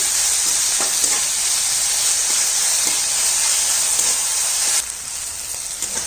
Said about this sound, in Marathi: 1 मिनिट ह्याची भाज्या थोड्याशा फ्राय करून घ्यायच्या